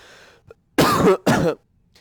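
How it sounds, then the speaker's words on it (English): Two loud, harsh coughs from someone recovering from a cold, in quick succession, close to the microphone, preceded by a faint throat sound and followed by quiet. "I am going to cough. It's going to be a little bit loud."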